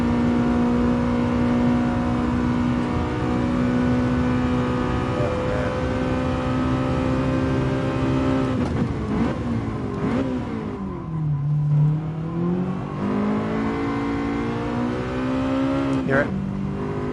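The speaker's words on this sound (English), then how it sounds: "you can literally hear the VTEC kick in" Honda engine in the racing game GT Sport with VTEC, droning loudly and rising in pitch through the gears, dropping at a shift and then climbing again to a sharper, harder howl.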